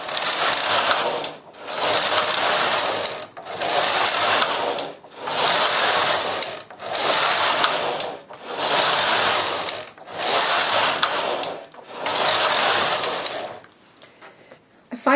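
A knitting machine carriage knitting lace slides back and forth in eight regular passes, each a loud, close, ratcheting mechanical whir separated by brief pauses, then falls quiet.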